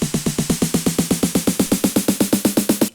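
A long deep house drum fill from a sample pack rattles off as a fast, even roll of about twenty snappy hits, loud and steady throughout before stopping cleanly.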